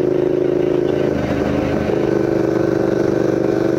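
A Yamaha MT-07 motorcycle engine runs steadily and loudly up close, a continuous rumbling drone with a slight dip partway through.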